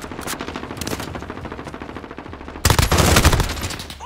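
Machine gun fire in Call of Duty Modern Warfare rattles in fast repeated bursts, with softer distant volleys giving way to a sudden loud, close stream of rapid shots.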